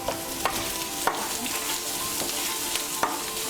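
Crushed ginger and garlic with turmeric fry in a pan with a steady close sizzle, while a spatula scrapes and knocks against the pan in regular strokes about every second.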